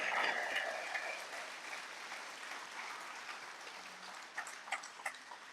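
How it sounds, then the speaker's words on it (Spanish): A church congregation applauds, starting fairly loud and then fading to thinner scattered clapping with a few sharper claps near the end, heard from some distance. "si vas a aplaudir al Señor"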